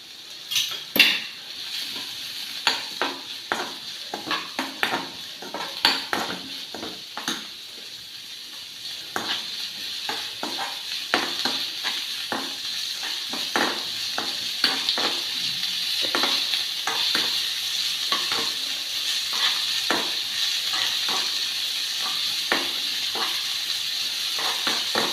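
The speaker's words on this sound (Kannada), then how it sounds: "ಈರುಳ್ಳಿ ಫ್ರೈ ಮಾಡ್ತಾ ಇದ್ದೇನೆ. ಈರುಳ್ಳಿ, ಕಾಯಿ ಮೆಣಸನ್ನು ಹಾಕಿದೆ," Onions, green chillies and ginger frying for samosa filling, a bright continuous sizzle broken by frequent spatula scrapes and taps against the pan, close and steady, with no talking.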